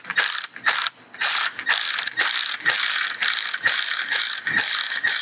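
Ratchet with an 18 mm 12-point socket turning transmission bolts on a 2009-2013 Audi A4 B8 CVT, loud close bursts of rapid clicking in repeated strokes with short pauses between.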